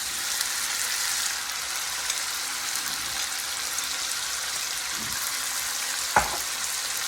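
Onions frying in a pan for Lebanese kibbeh, a steady close hissing sizzle that holds evenly throughout, with one sharp knock near the end and no talk.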